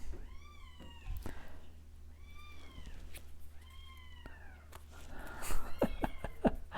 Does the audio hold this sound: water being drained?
no